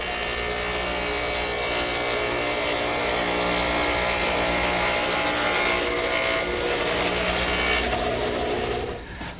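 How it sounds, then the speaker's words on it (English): A radial arm saw fitted with a stacked dado head cuts dados in wood for shelf sides. A loud, steady motor whine with a dense cutting roar runs nearly throughout, then drops off at the end. "So I've set up my stacked dado head cutter in my radial arm."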